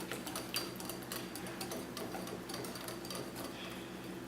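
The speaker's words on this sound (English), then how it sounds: "Now mix them both together." A melted chocolate and butter mixture for fudgy brownies is stirred together with a second mixture, giving a steady scraping, tapping rhythm against the bowl, close and continuous with no talk.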